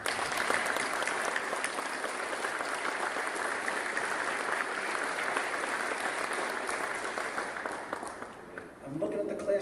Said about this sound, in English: let's please give a warm round of applause for our families.